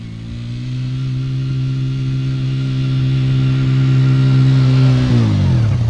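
A Kymco 90 quad's small engine accelerates hard from a standstill for a 0 to 60 run, a loud, close buzzing drone climbing steadily in pitch before a sudden drop as it shifts or lets off near the end.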